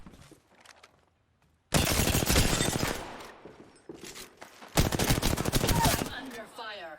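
Bursts of automatic gunfire from an Apex Legends match, with two loud sustained volleys of rapid shots separated by a brief pause, near and harsh, preceded by quieter game sounds.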